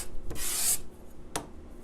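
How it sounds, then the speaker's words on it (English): A sharp rasping scrape of a card scraper across wood, one long pass followed by a short second stroke, close and fairly loud. "you are actually shaving or planing this wood"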